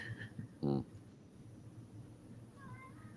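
A cat gives a single short, faint meow between bits of quiet speech in a room.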